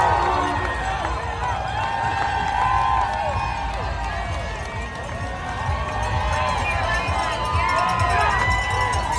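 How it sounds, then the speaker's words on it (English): Large roadside crowd cheering marathon runners along a New York City course, a steady loud wash of shouts and whistles across the whole stretch with mixed voices throughout. "There are more than 1 million people cheering you along the way on your birthday."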